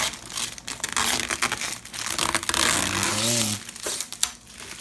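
Steady scratching and crinkling as a small sticker is scraped off a $1,200 PC build, continuous and close with a brief sharper scrape near the end, and a voice murmuring faintly underneath.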